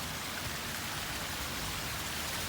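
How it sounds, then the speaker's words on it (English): Water rushing down a stream swollen by heavy rain, a steady, dense broadband roar with no breaks, fairly close and continuous, no voices. "You can hear the water."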